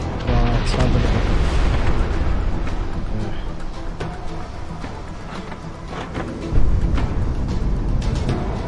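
Aircraft-dropped bombs exploding in the Project Wingman flight video game, heavy rumbling blasts rolling under jet engine noise, with a sharper boom surging near the end.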